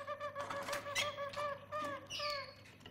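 A Harz canary sings a soft, flute-like phrase of repeated rounded notes, mid-distance and fairly faint over a low background hum.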